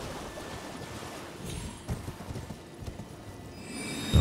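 A horse gallops in the Elden Ring video game, its hooves clip-clopping in a steady rhythm over a low game backdrop, with a thump near the end.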